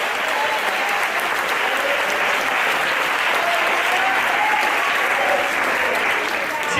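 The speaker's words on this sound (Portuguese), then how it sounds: "Pode aplaudir." Sustained applause from a large church congregation, steady and loud throughout, a dense wash of clapping with no pauses.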